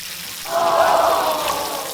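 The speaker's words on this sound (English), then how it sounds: "Oh no, the water splashed out." A sudden burst of water sloshing and splashing from a LEGO fountain pump, starting abruptly and lingering as a bright, close splatter before easing slightly.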